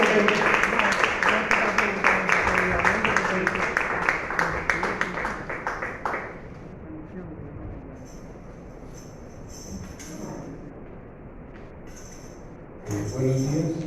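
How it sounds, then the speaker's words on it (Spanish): A church congregation breaks into loud, dense applause for about six seconds, then the room settles into quieter murmuring and shuffling with scattered voices. "Den un fuerte aplauso"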